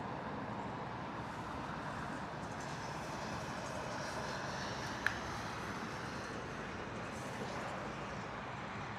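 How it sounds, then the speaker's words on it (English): Takeoff roll of a British Airways Airbus A380 on runway 27R at London Heathrow, its engines at full power making a steady broad roar that holds evenly throughout, heard from a distance. "British Airways Airbus A380 power set and rolling. Look at that power from those engines."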